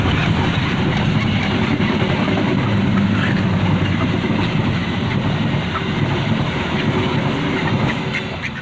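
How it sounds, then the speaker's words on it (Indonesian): A train rumbles past nearby, a steady loud roar with faint rhythmic clatter of wheels on rails throughout, easing slightly at the end. "ini ada kereta lewat bentar lagi."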